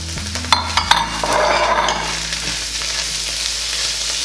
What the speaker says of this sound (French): Et vous remuez le tout jusqu'à ce que vos poivrons soient tendres et les oignons légèrement translucides, transparents.